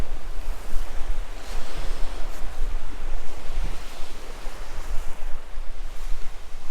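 Ocean waves break at high tide on Israelite Bay beach in remote Australia, a loud, steady roar of surf mixed with gusty wind buffeting the microphone, with no voices.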